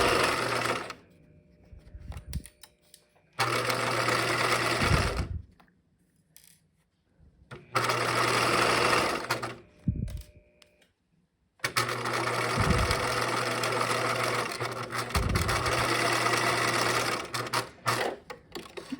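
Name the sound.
sewing machine stitching bag lining along marked seam line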